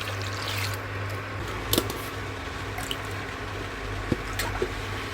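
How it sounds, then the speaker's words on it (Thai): Three litres of sugarcane juice poured into a container while making sugarcane wine, a continuous close gushing pour with a low steady hum beneath and a few sharp knocks. "เติมน้ำอ้อยลงไปเลยค่ะ เติมทั้งหมดเลยนะสามลิตรนะ"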